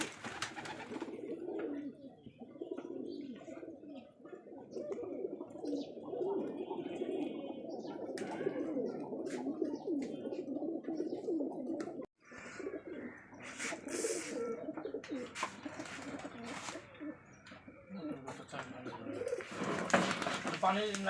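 Giribaj pigeons coo in a crowded loft at a large pigeon farm in Rajshahi, a steady layered murmur of calls running throughout, with people talking over it and a brief dropout midway.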